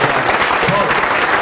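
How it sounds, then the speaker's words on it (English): A keynote conference audience claps for the speaker, Paul, in a short burst of steady, fairly loud applause with some voices mixed in. "I want to give big applause to Paul."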